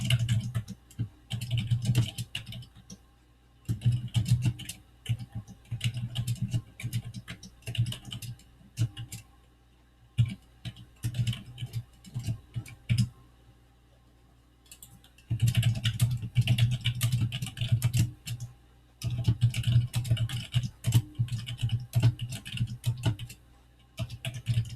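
Someone types labels into an Excel spreadsheet on a computer keyboard, close, crisp key clatter arriving in bursts with short pauses between runs.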